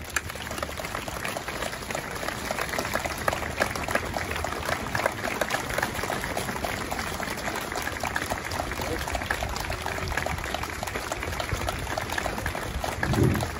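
Sustained applause from a large audience greeting the unveiling of an Anne Frank statue in Edmonton, a dense, steady wash of many hands clapping at full strength for the whole stretch.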